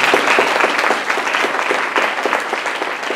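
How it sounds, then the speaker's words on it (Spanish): Church congregation clapping in praise during a Spanish-language sermon, a loud, close burst of many hands with a fairly regular beat, lasting about three seconds without speech. "Dele palmas al Señor."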